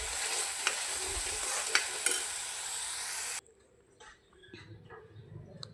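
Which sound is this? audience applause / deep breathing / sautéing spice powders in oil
sautéing spice powders in oil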